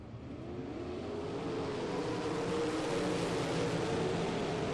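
A field of 360 sprint cars roaring away together at the start of a dirt-track race, a dense, steadily rising engine drone heard from a distance with no talk over it.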